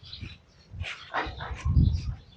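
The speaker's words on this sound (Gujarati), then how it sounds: "કૂતરા છે જો, બે સરસ મજાના" Two dogs at the Khodal Gir cow shelter give a few quick yips and whimpering barks close by, in short uneven bursts over about two seconds.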